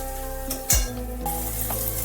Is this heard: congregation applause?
no